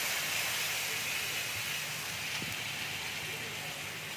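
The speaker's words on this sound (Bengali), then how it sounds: "এবার মশলাটাকে ভালো করে ভেজে নেব" Spice masala with turmeric fries in a pan with a continuous broad hiss of sizzling oil, steady and close, with a few faint clinks.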